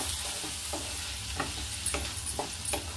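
Mixed vegetables for veg fried rice are stirred in a hot pan. Faint, steady frying hiss runs under a series of soft scraping strokes and light clicks from the spatula, and no one speaks.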